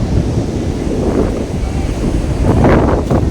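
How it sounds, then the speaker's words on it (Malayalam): Rough sea surf surges against the shore at Dhanushkodi near Rameswaram, a loud, continuous rumbling wash buffeted by strong wind noise on the microphone, swelling toward the end. "ഇപ്പത്തെ സൈഡിൽ ഭയങ്കര തിരമാല"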